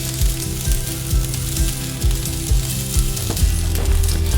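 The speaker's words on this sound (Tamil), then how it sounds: "பூண்டு இஞ்சியும் கொஞ்சம் வதங்கட்டும்" Garlic, ginger, green chillies and dried red chillies sizzle steadily in hot oil while a spoon scrapes and stirs, a dense close frying hiss with occasional dull knocks, no voices over it.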